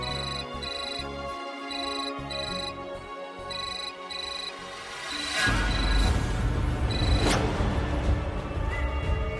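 A phone ringtone rings in a Marathi TV serial scene, a repeating electronic melody that plays on clearly, then swells louder and fuller partway through as background music joins in.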